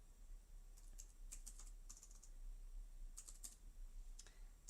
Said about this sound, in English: I'm going to type persuasion